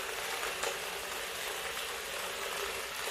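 Water droplets spattering onto an ordinary plant and a lotus leaf make a steady, dense patter like rain, continuous and even throughout, with no voices.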